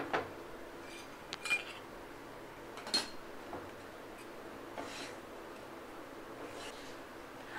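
A utensil scrapes and clinks against a kadai as roasted semolina is taken out for upma, giving soft irregular scratching strokes with a few light metallic taps, quiet and close in a calm kitchen.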